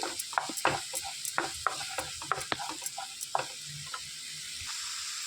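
Ginger garlic paste being stirred in hot oil in a pan, with a quiet scraping and stirring rhythm of short, irregular strokes and a faint sizzle underneath.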